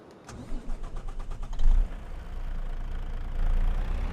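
Box truck engine in Farming Simulator 25 cranking and catching, a quick run of starter pulses followed by the engine settling into a steady mid-pitched idle that swells slightly near the end.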